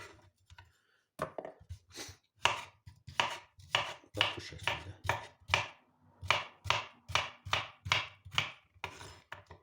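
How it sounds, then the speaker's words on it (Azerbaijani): A knife chops cucumber on a board in quick, regular strokes, about twenty crisp close chops in a steady rhythm, with a brief spoken phrase near the start. "Yəni bax belə xiyarımızı doğrayırıq."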